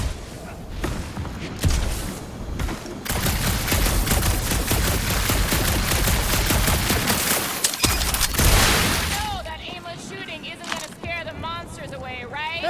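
Gunfire in Marvel's Guardians of the Galaxy, a dense burst of rapid shots and thuds lasting several seconds, then dying away as voices talk over the tail.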